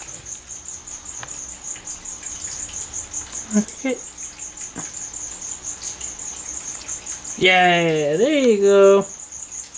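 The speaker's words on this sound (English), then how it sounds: "So we'll go ahead and give her some crickets now." Crickets trill steadily and rapidly near a Uroplatus phantasticus gecko's enclosure. A person speaks briefly and a short, loud, warbling voiced sound rises over the chirping near the end.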